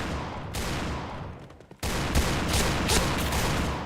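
Loud, continuous bursts of gunfire in a shooter video game, heavy rapid shots that briefly drop off and then resume at full intensity.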